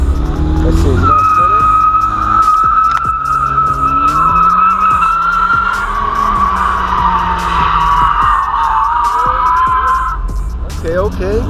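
A truck spinning donuts at a car meet, its tires squealing in a long loud wavering screech over engine roar, with excited voices talking over it.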